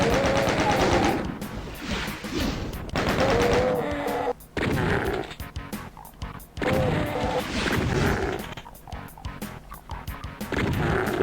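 Rapid, sustained chain gun fire from classic Doom 1 on PS4, loud and close, in long bursts with a few brief pauses, layered with impact crashes and game effects.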